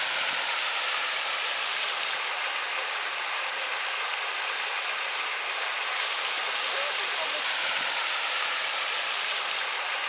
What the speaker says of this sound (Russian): вот это ручеек, который от водопада течет